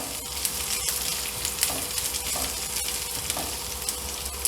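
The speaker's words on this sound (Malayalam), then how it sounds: "ഇതിലേക്ക് ഞാൻ കുറച്ച് വേപ്പില ഇട്ട് കൊടുക്കുകയാണ്." Curry leaves crackle and sizzle in hot oil alongside browned ginger and garlic, a dense, steady frying hiss with faint stirring knocks, close and uninterrupted by talk.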